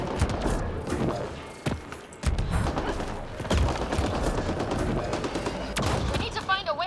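Turret gunfire in Mass Effect Andromeda, dense rapid bursts of shots and thuds rattling continuously, with people talking over the barrage.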